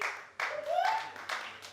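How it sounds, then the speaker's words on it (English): Comedy club audience at a small tavern show clapping briefly in response to a stand-up comic, a short burst of scattered applause with some speech-like sound mixed in. "Clap if you got a beard."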